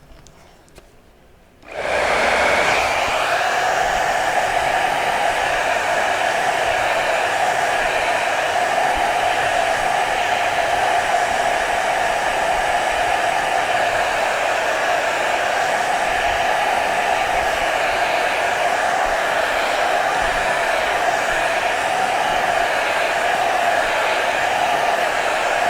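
A hair dryer blowing on wax on a painting switches on after a brief quiet start and runs as a steady, loud, even whir for the rest of the clip, with no voices.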